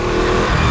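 Motorcycle engine revving hard under a quick-action throttle, loud and close in a steady continuous roar.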